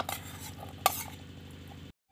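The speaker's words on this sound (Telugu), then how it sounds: "ఇప్పుడు పచ్చిమిర్చిని, చింతపండును వేసుకొని మెత్తగా నూరుకుందాము" Green chilli and tamarind are ground in a stone mortar for a chutney, a close, continuous scraping and churning with one sharp knock of stone on stone partway through, then sudden quiet.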